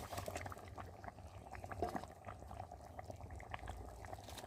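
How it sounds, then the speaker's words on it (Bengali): Curry broth with potatoes simmering in a pot for a soybean and egg dish, a faint, continuous bubbling with scattered small pops, heard alone. "আমার ঝোল ফুটে গেছে আর আলুও সেদ্ধ হয়ে গেছে"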